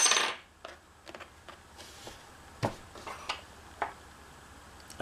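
Plates of a Xomo EXO-Armor vape device clacking, several sharp, light clicks and taps at irregular intervals, fairly close and quiet.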